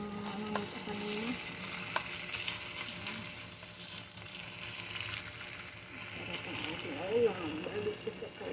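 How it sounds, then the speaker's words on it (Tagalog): Barbecue chicken frying in oil in a kawali gives off a steady low sizzle with occasional stirring clatter, while people talk faintly in the background. "Barbecue sa kawali."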